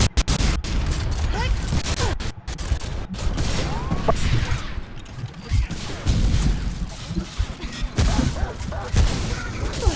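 Gunfire and explosive blasts in the shooter game Remnant: From the Ashes, including a rocket launcher being fired, with dense, loud bursts and booms crowding the whole stretch and a voice talking over the chaos.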